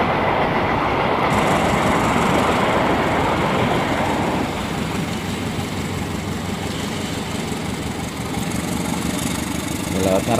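Small toy model trains, including a vintage CC201 locomotive model, whir and clatter along a track nearby, a continuous rolling rumble with clicking wheels that shifts in tone partway through.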